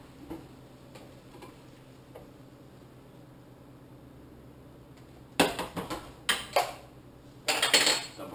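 Vegetables tumble into a pot of pasta for pasta primavera, giving a few sharp clattering bursts against the pot near the end after a quiet stretch of faint handling sounds.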